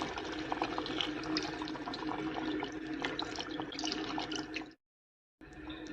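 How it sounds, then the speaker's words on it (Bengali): Milk poured into a chicken roast as it cooks, a continuous close liquid splashing and sizzling wash that cuts off abruptly into silence, then briefly resumes. "এখন আমি দিয়ে দিব পরিমাণ মতো দুধ"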